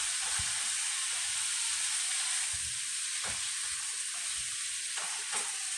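Onions sizzling in a frying pan for beef stroganoff, a steady bright hiss with a few soft scraping strokes as they are stirred and broken up, close and even, with no voice.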